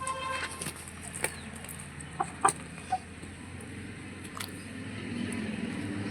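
A young chick tethered on a rope at a farm gives a few short, soft clucks and chirps, spaced irregularly over a quiet outdoor background.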